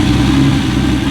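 Loud, rough car engine idling close by without a muffler, a deep throaty rumble with no talking.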